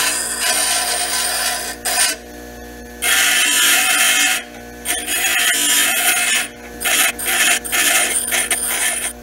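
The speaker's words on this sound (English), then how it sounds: "All you do is take your bench grinder." A bench grinder grinding a point on a metal piece, loud harsh hissing bursts of metal on the wheel, repeated in several passes with short pauses between, close by.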